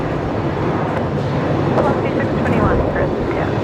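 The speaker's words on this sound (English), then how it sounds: "We are super lucky to see the A330 Neo tonight." An Aircalin Airbus A330neo at Brisbane Airport at night gives off a loud, steady broadband engine roar that fills the whole stretch, with people talking over it.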